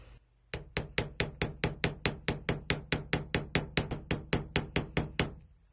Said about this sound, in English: we're going to use this little round side to get your classic hammered texture